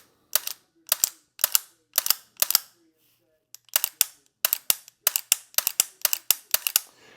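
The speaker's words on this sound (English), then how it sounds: "you can hear it when I'm pulling the trigger" Timney two-stage rifle trigger dry-fired repeatedly, giving a series of sharp, close mechanical clicks in an even rhythm, about a dozen snaps with a short pause midway.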